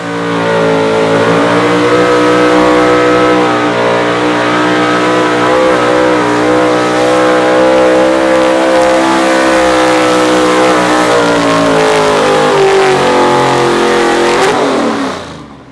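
Chevrolet pro stock 4x4 pulling truck roars at full throttle while dragging a heavy sled at an outlaw pulling event in Wisner, Nebraska, a loud, sustained high-revving engine scream that holds steady before cutting off abruptly near the end.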